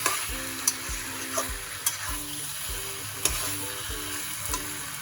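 Vegetables for Bengali shukto are stirred in a frying pan, with soft sizzling throughout and a steady series of spoon scrapes and taps against the pan, close up and alone.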